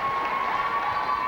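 Crowd at a 1998 netball match applauding and cheering, a steady, distant wash of clapping and voices in a large indoor venue, brief and even throughout.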